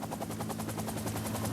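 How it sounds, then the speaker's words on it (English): A government helicopter takes off near Medellín, its rotor beating in a fast, steady chop with a continuous engine roar, loud and close throughout. "Then the helicopter took off,"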